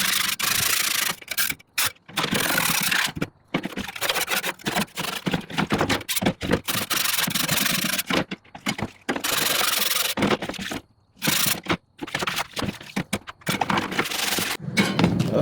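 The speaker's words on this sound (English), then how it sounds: "See if we can scrape some of this" Harsh, continuous scraping of stubborn residue off gas grill grates, a loud close rasping with rapid back-and-forth strokes and only a few brief pauses.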